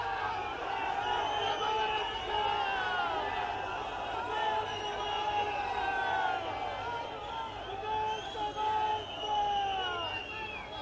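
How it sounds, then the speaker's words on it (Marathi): A large crowd of supporters gathers at Mumbai airport, giving a steady, dense roar of chatter and overlapping voices with occasional louder shouts across the whole stretch. "समर्थकांची मोठी गर्दी।"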